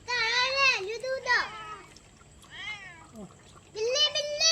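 A cat meows repeatedly in loud, rising and falling cries, about four calls spaced through the stretch, close to the listener with faint water sounds underneath.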